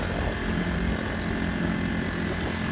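A Honda 35cc outboard engine drives an Expandacraft boat through cross chop, giving a loud, steady droning buzz that holds constant with no pauses.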